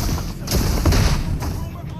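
Explosions and gunfire in PUBG Mobile after grenades are thrown, a series of heavy thuds and bangs spaced unevenly over the scene, with a voice talking underneath.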